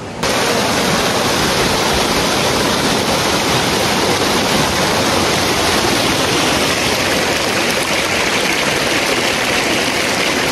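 Shoilopropat waterfall in Bandarban roars as a loud, dense, unbroken rush of falling water, heard up close from beneath a bridge and staying steady throughout.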